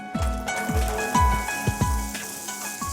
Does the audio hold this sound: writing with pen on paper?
no